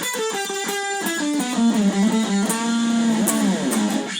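An electric guitar plays the second phrase of the solo, alone and clear, with a descending run and a bend that sustains before a wavering vibrato finish.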